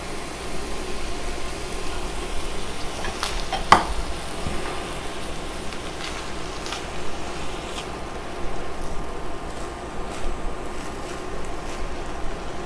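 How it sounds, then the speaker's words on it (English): Beans being stirred into onions in a hot pan, a steady soft sizzle with scraping and stirring noises, one sharper clink early on, close and without talking. "I'm going to just stir the beans in."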